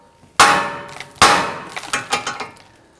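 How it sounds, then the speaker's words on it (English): Two loud metallic clangs from hammer blows on the steel steering knuckle of a 2009-2017 Volvo XC60, each ringing briefly, followed by several lighter, quicker taps. "Now we're going to use our hammer. We're going to strike the knuckle here."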